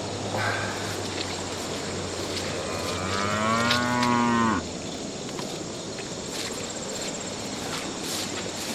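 Cattle being moved between pastures on a rotationally grazed farm give a loud, drawn-out moo in the middle, over steady outdoor background noise.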